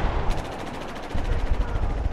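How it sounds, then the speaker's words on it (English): A shotgun fires in a video game, a sharp blast followed by a rumbling tail and a second heavy burst, loud and close with no talking. "He shotgunned me."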